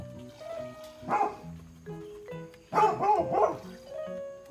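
A dog barks and yips on a goat farm during hand milking, with short bursts clustered near the start and middle of the clip against low background noise.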